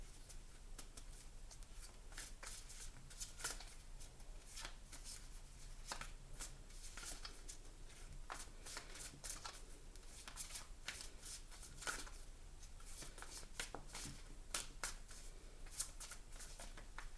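A deck of cards is shuffled over and over, crisp riffling bursts recurring every second or so, quiet and close with no talking.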